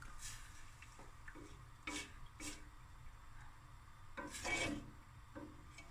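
A spoon scraping and stirring heated milk in a pot while making boeber, soft rasping strokes in irregular bursts, quiet and close against a low background hum.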